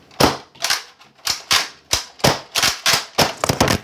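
A Nerf blaster fires foam darts in a fast series of about ten loud, sharp plastic clacks, each with a brief airy burst, close up and evenly spaced with no talk.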